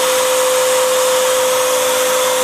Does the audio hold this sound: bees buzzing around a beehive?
no